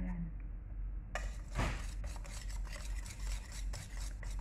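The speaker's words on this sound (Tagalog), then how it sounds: "At haluin ng haluin para matunaw din yung vanilya, para mabango siya." Banana bread batter with vanilla stirred by hand in a bowl, a steady scraping and rubbing that goes on continuously and close by, with a sharper swish partway through.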